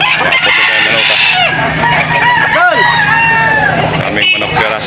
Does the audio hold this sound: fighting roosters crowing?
yes